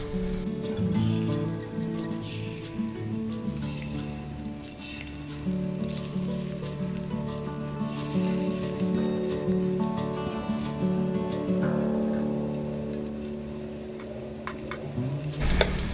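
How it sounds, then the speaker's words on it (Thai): Steady crackling sizzle of battered pork pieces deep-frying in hot oil over medium heat, continuous and close, with a low hum underneath and no talking. "พอกระทะร้อนนะคะ ก็ปรับเป็นไฟกลาง แล้วก็นำหมูลงทอดได้เลยค่ะ"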